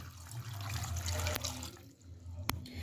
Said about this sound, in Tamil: இப்போ இதுக்கு தேவையான அளவு தண்ணி ஊற்றிக்கலாம்.